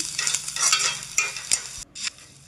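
Soya chunks fry with chili powder in a pan, a close crackling sizzle broken by repeated scraping stirs, loud and uneven.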